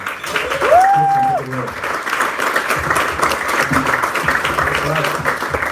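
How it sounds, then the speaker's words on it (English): Audience applause at a crypto event rings out loud and close, with a whistle or cheer rising early, then continuous clapping under background voices. "So a round of applause for you guys as well from my end."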